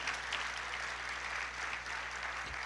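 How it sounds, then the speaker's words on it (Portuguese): Church congregation applauding the Lord during a sermon, a fairly faint but continuous spread of clapping heard at a distance over a low steady hum. "Pode aplaudir ao Senhor."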